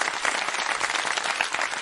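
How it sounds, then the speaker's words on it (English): A group bursts into dense, sustained clapping, steady and continuous at moderate loudness with no voices over it. "can you stop clapping?"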